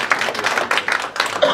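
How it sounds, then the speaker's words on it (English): A small audience claps for Jim Ryugo of the Kitazawa Seed Company at a talk, a brief uneven patter of hands in a short burst that fades as it goes. "If we could all give Jim a round of applause here."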